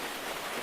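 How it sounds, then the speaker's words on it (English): Steady rain patters against a bakery window in a rainy city, a soft even hiss of droplets with no breaks, gentle and continuous throughout. "The rain grows steadier now. Not a storm, never harsh, just a steady curtain of droplets weaving silver lines across the glass."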